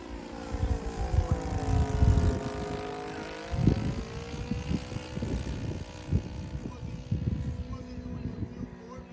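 A Saito FA-90T twin-cylinder engine powers a vintage Hangar 9 Cub RC plane at about half throttle, giving a steady, loud droning buzz whose pitch slowly bends and shifts, with scattered low thumps underneath.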